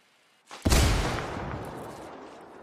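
A placed mine detonates in the video game Ghost Recon Wildlands with a single sudden, loud blast. A heavy rumbling tail slowly fades over the next two seconds, with no talk.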